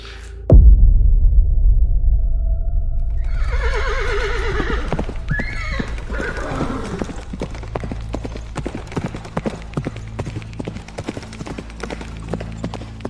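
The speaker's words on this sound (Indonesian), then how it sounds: "bunyi lonceng kuda" A horse sound effect: a deep rumble opens, then a loud whinny rises, followed by steady rhythmic clip-clopping hooves with bright ringing, bell-like ticks that carry on to the end.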